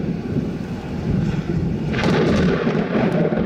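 Thunder from a barrage of cloud-to-ground lightning during a rain-wrapped storm chase: a continuous heavy rumble with rain noise that swells louder and brighter about halfway through and keeps rolling to the end, with no talking.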